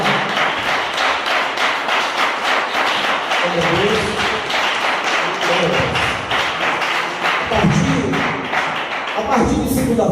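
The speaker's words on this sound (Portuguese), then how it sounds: "Batam palmas e exaltem a Deus." A church congregation claps hands in a steady rhythmic beat, loud and continuous throughout, with voices singing or calling out over the clapping.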